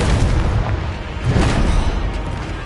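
A Confringo fire spell explodes in Hogwarts Legacy with a loud, sustained rumbling boom that roars steadily and swells slightly midway, with no voices over it.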